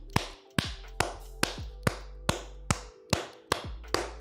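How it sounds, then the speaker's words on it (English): Ten sharp, evenly spaced hand claps about every half second, close and loud, each a crisp slap with a short ringing decay, and no talking. "Why am I clapping?"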